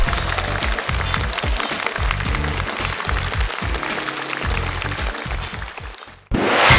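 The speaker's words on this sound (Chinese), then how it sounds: "来，掌声送给顾小镇。" Studio audience applause on a Chinese family-dream quiz game show, a broad continuous wash of clapping that stays loud for several seconds before cutting off abruptly near the end.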